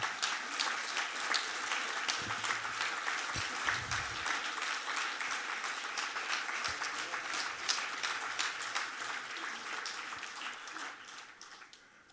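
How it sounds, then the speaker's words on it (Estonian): An audience at a school alumni reunion concert in a culture centre hall applauds steadily for about twelve seconds, dense crackling clapping that fades near the end, with brief low talk mixed in. "plaksutatakse juba"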